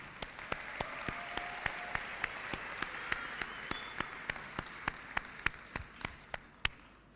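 Quiet applause at a Unisa university graduation ceremony, heard as regular, evenly spaced claps ringing out in a large hall, fairly faint and distant, with a soft murmur of the crowd beneath.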